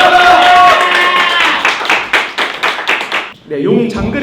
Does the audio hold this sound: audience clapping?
yes